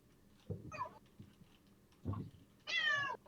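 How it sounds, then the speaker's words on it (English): A cat meows off to the side in an indoor room, three separate calls rising in urgency, the last one long and drawn out, fairly faint against quiet surroundings. "so sorry if you guys can hear the meows. My cat is freaking out right off screen"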